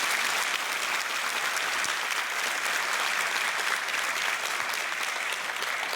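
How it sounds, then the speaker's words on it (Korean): Church congregation applauding in honor of the elders during a sermon, a dense, steady wash of clapping that fills the room evenly from start to finish with no voices rising above it. "우리 장로님들에게 큰 박수 한번 보내줘요."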